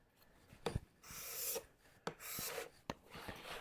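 A card scraper pulled along the grain of oak in light smoothing passes, giving a series of breathy rasping strokes about a second long each, with sharp ticks as the steel meets and leaves the wood, close and fairly quiet.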